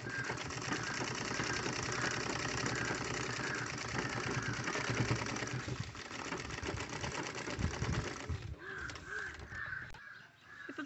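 A sewing machine stitches a fabric drawstring wrist bag, its motor running as a steady, fast mechanical whir with rhythmic needle clatter for most of the stretch before slowing and stopping near the end.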